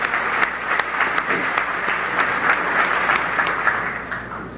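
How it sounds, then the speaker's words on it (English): A crowd at a commerce class reunion gives steady, sustained applause, a dense wash of many hands clapping at moderate distance with no talk over it. "So I think a round of applause goes to Paul Mccoy for doing a tremendous job."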